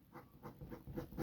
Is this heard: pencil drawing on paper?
yes